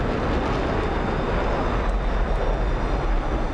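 Simulated F-35 fighter jets roar through takeoff, a steady, dense engine rumble holding loud and constant throughout without pause or voices.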